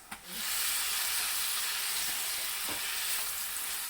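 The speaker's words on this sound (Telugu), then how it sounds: "రొయ్యల్ని ఇందులో వేసేసుకుందాం" Raw prawns dropped into a hot pan of curry base, a sharp clatter followed by a loud, steady, hissing sizzle that continues close by with no voices.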